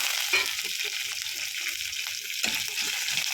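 Dried red chillies, green chillies and curry leaves fry in hot oil, a steady soft sizzle with brief bursts and a couple of stirring scrapes, close and fairly quiet.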